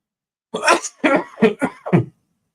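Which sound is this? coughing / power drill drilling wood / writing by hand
coughing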